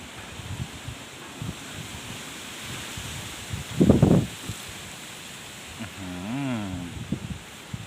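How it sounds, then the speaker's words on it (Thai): Strong, gusting wind blowing through trees outdoors, a broad rushing roar with rustling and buffeting against the microphone, one heavy gust midway, and a faint tonal warble near the end. "ลมแรงมากๆเลยครับวันนี้"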